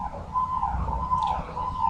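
A police car siren on a Delhi street wails in a steady wavering tone at moderate distance, over low traffic rumble.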